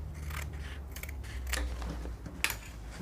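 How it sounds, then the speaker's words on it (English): Scissors snip away excess fabric at the seam of a sewn Bubu shirt dress, a few crisp, close cuts over a low steady room hum, the sharpest near the end. "cut off the excess if you have excess"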